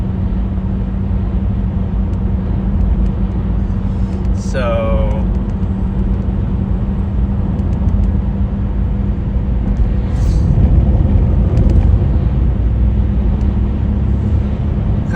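Steady road rumble and engine drone heard from inside a moving car, loud and continuous throughout, with someone briefly speaking over it.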